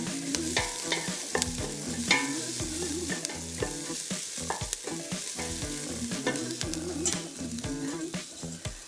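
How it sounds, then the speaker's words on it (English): Flour and butter roux for a dairy-free broccoli soup bubbles and sizzles in a pan, with steady frying crackle under rhythmic stirring and occasional utensil scrapes, over a low background hum. "So I want my flour and butter to be all bubbly and start to be a little bit toasty"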